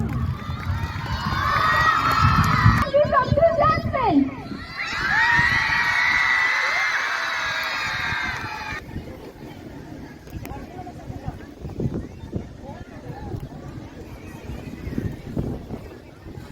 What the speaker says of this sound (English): Everyone, please give our talented students a huge round of applause